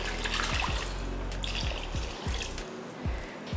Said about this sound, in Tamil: இப்போ குழம்புக்கு தேவையான தண்ணி சேர்த்துடலாம்.